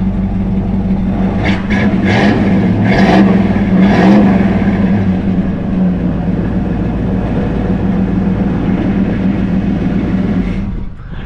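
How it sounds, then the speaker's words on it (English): A 1966 Chevelle convertible's engine rumbles loudly through newer dual exhaust, with a few revs early on before settling into a steady idle, close by and alone. "It's got newer dual exhaust on it."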